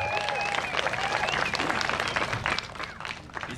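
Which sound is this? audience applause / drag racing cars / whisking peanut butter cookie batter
audience applause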